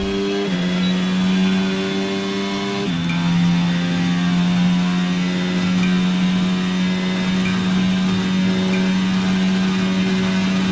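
A race car engine drones steadily at high revs, close and loud, through a hot lap of Imola in a racing video game, with a brief pitch drop early on like a gear change and faint ticks over the top, with no voices.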